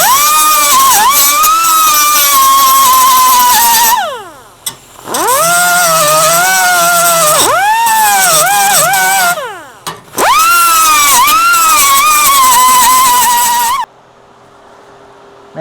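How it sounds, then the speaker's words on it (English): A die grinder fitted with a cutoff wheel grinds welds off the trunk gutters of a 1963 Impala. The loud, close, high whine runs in three long bursts, dipping in pitch as it bites, then cuts off. "I just use a cutoff wheel on a die grinder, and we're just going to take the tops off."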